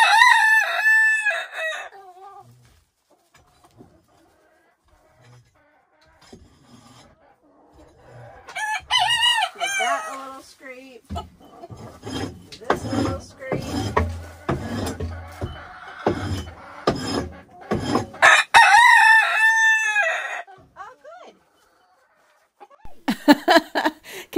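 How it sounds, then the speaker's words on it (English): Several roosters, six kept on a homestead farm, crow loudly in repeated bursts near the start, middle and end, with clucking fowl and people talking between the crows. "Can you tell we have six roosters? Is crowing constantly."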